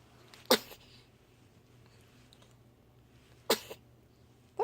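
Two sharp sneezes about three seconds apart, each a brief loud burst over a quiet room, with the start of a third at the very end.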